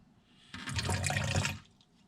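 Water rushes steadily into a tray sprouter full of seeds, filling it toward the top. The loud, continuous wash lasts about a second before it tapers off into quiet.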